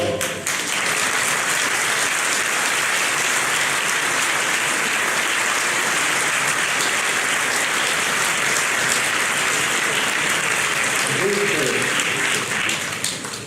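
An audience applauding at the 2019 New Year's greetings ceremony in Sanary; loud, sustained applause from a full hall filling the whole span, with a voice faintly heard near the end.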